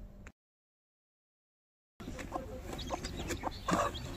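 A hen clucks among her many newly hatched chicks at a home in rural Maharashtra, with soft cheeping and fowl calls close by after a brief silence, busy and continuous.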